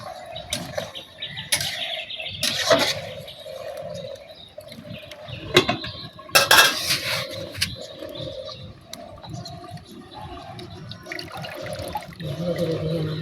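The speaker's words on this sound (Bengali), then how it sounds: "ওখানে আলুটা ধুয়ে নেবো" Potatoes washed by hand in water, with irregular splashes and sloshing at close range, while birds chirp in the background.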